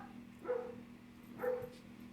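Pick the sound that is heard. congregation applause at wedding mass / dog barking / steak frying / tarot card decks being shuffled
dog barking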